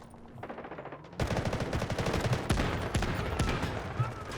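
Rapid bursts of M249 light machine gun fire in the Delta Force video game, loud and close, starting after a quiet second and continuing as fast repeated shots to the end.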